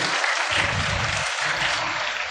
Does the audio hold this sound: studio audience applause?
yes